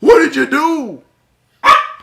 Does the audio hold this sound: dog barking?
yes